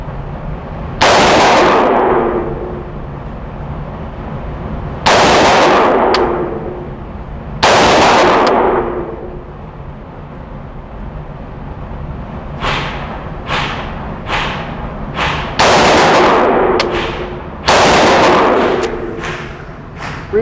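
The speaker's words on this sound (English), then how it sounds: "I'm going to shoot over both those groups before I switch ammo" A Palmetto State Armory AR15 rifle fires about ten loud, sharp shots at irregular intervals, several widely spaced at first and then a quicker cluster of cracks toward the end.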